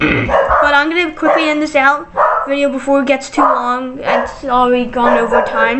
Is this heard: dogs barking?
yes